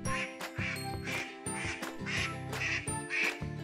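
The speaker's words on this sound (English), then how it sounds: "5. Cayuga Duck." A Cayuga duck, a glossy black breed, quacks repeatedly in a steady series of loud, nasal calls close to the microphone, with no talking.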